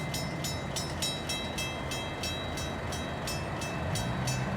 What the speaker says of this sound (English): And it's following a mixed train.